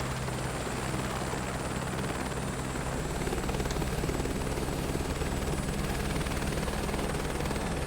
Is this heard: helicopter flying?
yes